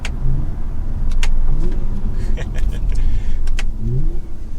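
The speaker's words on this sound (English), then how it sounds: "I like the TRD exhaust. It's not that loud, but it does have a really good sound to it." A Toyota Camry TRD V6 with its TRD exhaust rumbles up close from inside the cabin, a low steady engine drone with slight rises in revs and a few faint clicks and rattles, no voices.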